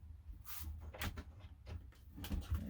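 A camper fridge door is pulled off after a small top screw is removed: a few quiet clunks and plastic knocks, followed by a brief scrape, near and faint, with no talk.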